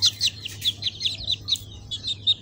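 Pet chickens with large head crests, kept free-range, make a run of small high chirps and peeps in quick, irregular bursts, fairly close and soft, over a steady low background hum.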